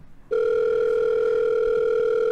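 A phone call in a horror video game set at the Fazbear Museum begins with a loud, steady electronic tone. The tone holds unbroken for about two seconds and then cuts off.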